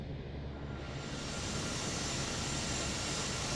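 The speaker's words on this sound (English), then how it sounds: "Just in multiplayer, it's just giving a jet engine sound only and no chopper effect" A jet-engine whine plays on a small SU5 helicopter in Microsoft Flight Simulator 2024 multiplayer, with no rotor chop. The roar is steady, broadband and loud from start to finish, with a thin high tone above it and no voices.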